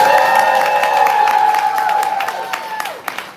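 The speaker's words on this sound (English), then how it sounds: "Make some noise that this is your very first time coming to a Right About Now poetry event." A live poetry event audience cheers and applauds loudly, a dense sustained roar with shouts and whoops rising above scattered claps, easing off toward the end.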